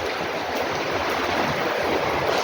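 Steady broadband rush of running, trickling water from a roof leak pouring into a flooded school classroom after a typhoon, continuous and fairly loud with no voices.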